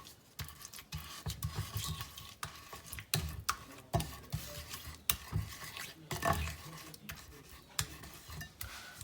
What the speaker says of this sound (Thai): คนให้ส่วนผสมเข้ากันละลายเข้ากันได้จ้ะ